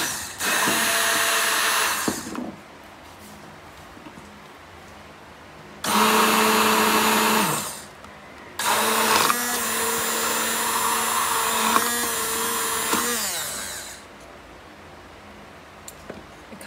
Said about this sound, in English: a hand mixer or a stick blender is very important in the emulsification process